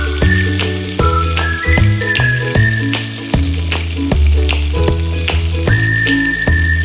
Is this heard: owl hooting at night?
no